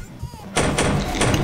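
A door slams shut in the horror game Sonic.exe The Disaster: a loud, abrupt bang followed by a few more sharp thuds in quick succession, with someone talking just before.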